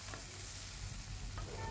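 Okra frying in a pan makes a soft, continuous sizzle with a couple of faint utensil taps, heard up close with no voices.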